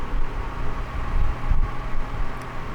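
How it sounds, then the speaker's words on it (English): A parked car near the SpaceX Starship site at Boca Chica idles with its air conditioning running, giving a steady low rumble and blower hum, close and unbroken, with no voices. "that's what the car sounds like running, because the AC has to stay going"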